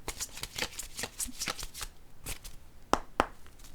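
Tarot cards being shuffled in quick riffling bursts, close and fairly loud, followed by a couple of sharp snaps as cards are drawn and laid down.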